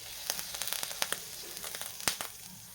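Green chillies frying in a pan for Maharashtrian village-style thecha, giving a soft steady sizzle broken by sharp crackles and pops, close and fairly quiet with no talking.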